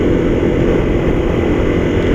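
A Honda CRF250L motorcycle fitted with a smaller front sprocket drones steadily at high revs in top gear, a loud continuous engine tone with wind rush and no talking.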